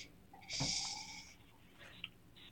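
A single audible breath drawn in through the nose, a soft airy snore-like rush lasting under a second, then quieter faint breathy traces afterward, close and alone with no talk.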